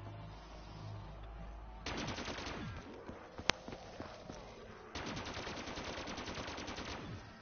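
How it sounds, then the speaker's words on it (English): Rapid bursts of gunfire from a zombie-shooting video game, loud and continuous in two long volleys with a brief gap and a sharp single crack between them, over a low game background hum. "I love shooting zombies."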